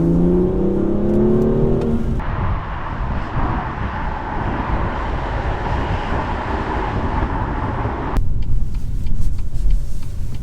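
A short, wide 1,600-kilogram BMW M car revs up with rising engine tones, then settles into a steady, loud, close roar of engine, road and tire noise while driving. No one speaks.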